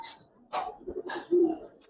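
Giribaz coloring pigeons coo and call in a loft, a few short soft bursts close by with small chirps between, no talk.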